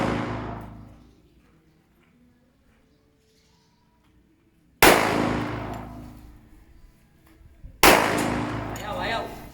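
Two loud gunshots crack out several seconds apart outdoors during a test of amulets, each a sharp blast with a ringing decay, after a quiet stretch with faint background sound.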